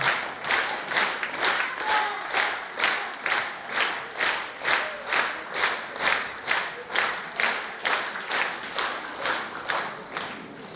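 A concert audience at a Bashkortostan young performers' contest claps in unison, producing a steady, rhythmic wave of applause that pulses about twice per second and keeps going without letup, with a faint hint of crowd noise underneath.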